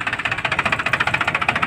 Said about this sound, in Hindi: आवाज़ देख सकते हैं कितनी बढ़िया ट्रैक्टर की।